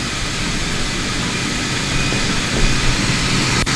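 A laboratory airflow test rig starts up with its fan and heater switched on, giving a loud, steady broadband roar that holds throughout and swells slightly near the end, with a brief sharp click just before it finishes.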